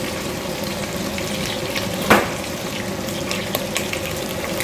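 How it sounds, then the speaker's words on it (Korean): Butter melting in a pan at a steady frying sizzle, a continuous crackle with one brief louder burst partway through, as it cooks at the start of a curry dish. "이게 버터가 녹잖아요."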